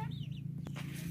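Chickens clucking beside a small wattle-and-daub coop on a rural farm, a short close burst of clucks over a steady low hum.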